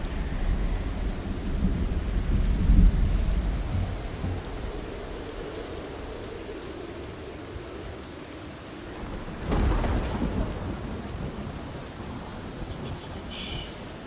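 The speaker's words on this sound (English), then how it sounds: "This storm is not good." Thunderstorm with rain in Project Zomboid: a continuous hiss of rainfall with low rolling thunder swelling early and a second rumble later, fairly quiet and with no talking.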